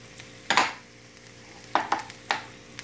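Vegetables for an egg white omelette (white onions, yellow peppers, mushrooms, tomato) sautéing in a pan, heard as a few short bursts of sizzling and stirring scrapes over a quiet background.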